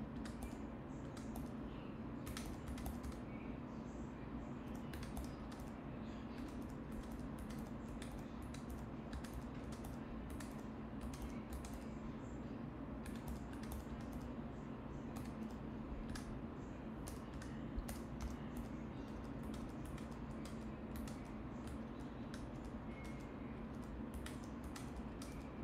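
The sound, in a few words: typing numbers on a computer keyboard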